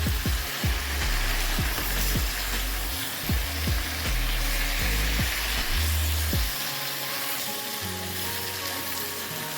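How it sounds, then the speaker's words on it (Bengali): Pui shak (Malabar spinach) chorchori sizzles and fries in a pan while being stirred, with a loud steady hiss broken by repeated scraping knocks of the spatula against the pan. "এবারে ভালো করে একটু নেড়ে চেড়ে তরকারিগুলোকে মিক্স করে নিই।"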